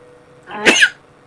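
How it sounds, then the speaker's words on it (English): A man sneezes once, close and loud, a single sharp burst over a quiet background. "Yeah, I'm sneezing."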